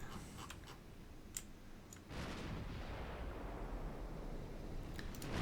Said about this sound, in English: Opening fire at pretty long range.